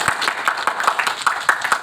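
A press conference audience gives a short burst of rhythmic clapping, individual claps distinct and fairly close, with no talk over it.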